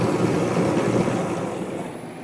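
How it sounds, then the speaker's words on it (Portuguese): A Prática automatic bread dough moulding group for French bread with an eccentric roller that squares incoming dough sheets runs with a steady, even mechanical whir and rumble, fairly close, with no pauses. "Os grupos automáticos prática, eles têm aqui esse rolo que é um excêntrico, que serve para esquadrejar as mantas de entrada"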